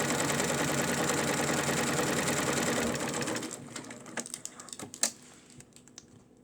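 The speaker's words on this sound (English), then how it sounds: "you can just take and turn in about 1/4 of an inch, sew it down" A sewing machine stitches down a turned-in quarter-inch hem on woven fabric, humming steadily for a few seconds and then slowing into scattered clicks and taps as it stops.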